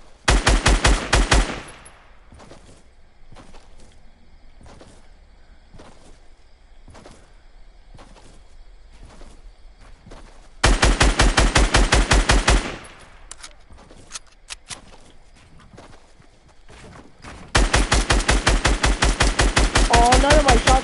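Loud automatic gunfire in a video game comes in three long, rapid bursts, separated by quieter stretches of scattered single shots and softer in-game sounds.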